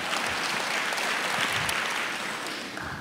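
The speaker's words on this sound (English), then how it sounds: "You can clap." A church congregation claps together in a steady, fairly close burst of applause that fades slightly toward the end.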